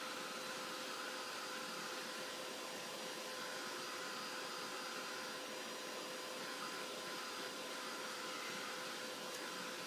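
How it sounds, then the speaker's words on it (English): A heat tool blows steadily while drying distress stain on a paper tag, a constant airy roar with a faint steady whine, unbroken throughout. "the reason I'm drying in between each stage is because I don't want this to get real muddy"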